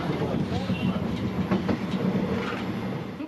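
A train runs along a rehabilitated railway line between Moldova and Ukraine, with a steady rolling rumble and faint clickety-clack of wheels over the rails, heard close and continuous.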